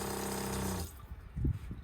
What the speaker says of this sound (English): Push the button here to trigger the motor, and you have running water.